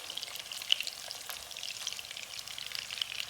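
Greek chicken meatballs frying in a pan, giving off a steady crackling sizzle with scattered sharp pops, close and fairly soft, with no talking.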